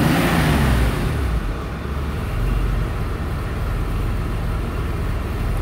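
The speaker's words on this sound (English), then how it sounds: "Go ahead and rev the engine a little bit." A garage-kept 1990 Porsche 911 Targa C2 (964) with G50 gearbox and 74k miles, its engine revved at idle, a loud, steady, close motor drone that surges briefly at the start and then holds even.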